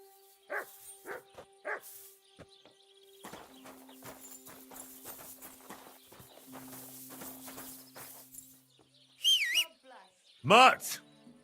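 A dog in Kingdom Come: Deliverance II gives two loud, close barks near the end, after quieter hoof-like clopping and footsteps, with some voices in the background.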